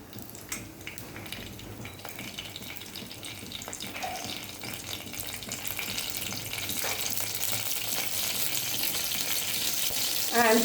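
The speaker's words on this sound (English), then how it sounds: "Let them splutter." Mustard seeds and jeera crackle in hot oil as a steady sizzle, with scattered pops building slightly louder toward the end alongside a faint watery hiss.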